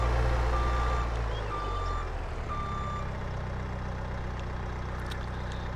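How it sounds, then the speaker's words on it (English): A forestry tractor in the farming video game Farming Simulator 22 sounds its reversing beeper, three evenly spaced beeps over a loud, steady low engine idle. "Reverse beep."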